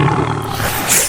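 A lion's roar, loud and close, one sustained rough bellow that fills the whole short moment with no speech over it.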